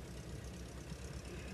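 A W40 tractor engine runs at a parade, its low, steady rumble continuous and fairly close, with no voices over it.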